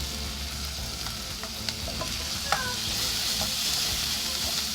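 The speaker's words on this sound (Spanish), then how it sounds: "Dejamos que el ají especial se cocine." Ají especial chili paste cooking in a pan for a Peruvian soup, a steady soft sizzle with small stirring clicks and scrapes, fairly quiet and continuous with no talking.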